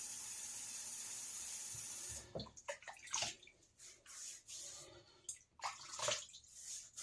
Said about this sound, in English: getting on the hot water here